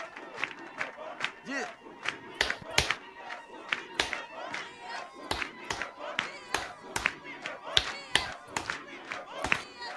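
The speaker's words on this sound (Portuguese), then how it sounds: "we need to clap for Jesus" A church congregation claps during a prophet's welcome reception after a mission to Kinshasa, Congo. Sharp rhythmic claps and cheering crowd voices ring out in a large, reverberant hall, mixed with shouting and talk throughout.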